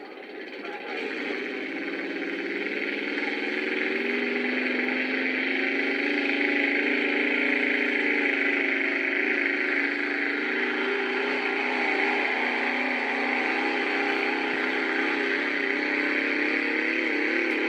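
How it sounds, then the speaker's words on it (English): A loud, sustained B-class pulling tractor engine roars under heavy load at a tractor pull, droning steadily for many seconds with slowly shifting pitch, no talk. "this is one of the smaller, or B-class tractors"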